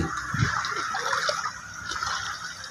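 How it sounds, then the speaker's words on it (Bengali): Soaked lime is stirred in water inside a container, giving a continuous soft sloshing and splashing close by, with no talk over it. "এই চুনগুলি এরকম যে কোনো পাত্রে ভিজিয়ে রাখতে হবে। ভিজিয়ে তারপর এইভাবে নাড়াচাড়া দিয়ে"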